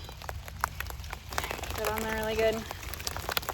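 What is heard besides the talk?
light rain falling outdoors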